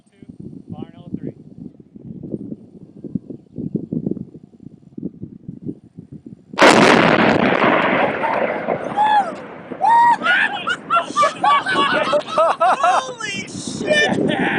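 After muffled low talk, an explosive blast set off following a fire-in-the-hole warning erupts suddenly and loudly, followed by a sustained rumbling roar with excited shouting voices over it.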